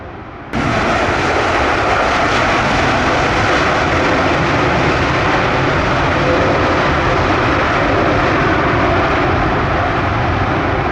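A loud, steady Boeing 787-9 airliner roar rises sharply and holds as it lands on wet runway 07 at Montego Bay, Jamaica, a broad engine rumble passing close by with no voices.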